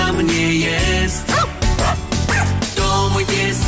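A dog barks in short yipping bursts inside a cheerful Polish children's song about a pet dog, the barks mixed with loud, steady singing and music throughout.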